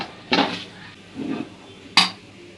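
A spoon stirs a sabudana mixture in a pan, giving two sharp metallic clinks and a softer scrape in between, close and alone.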